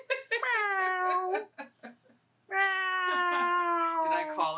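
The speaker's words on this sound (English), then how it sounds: "Here comes the cat." A cat meows loudly and close in a home kitchen, giving two long drawn-out yowling meows separated by a few short, quieter sounds.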